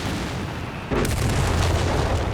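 Artillery explosion in the World War II strategy game Company of Heroes 3, a sudden loud boom about a second in, followed by a sustained rumbling blast.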